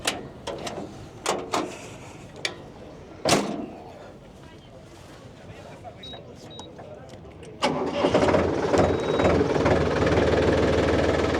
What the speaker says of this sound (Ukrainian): При правильному балансуванні цих трьох циліндрів ніякого додаткового вібрації не буде.